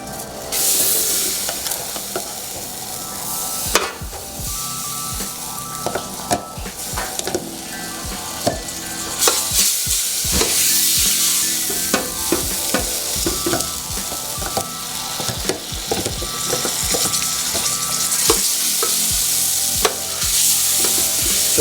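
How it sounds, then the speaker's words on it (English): Butter sizzles loudly in a pan on the stove, a dense, continuous crackle and hiss throughout, punctuated by occasional sharper pops and the clatter of a utensil against the pan. "the next step is I'm gonna drop my butter in here"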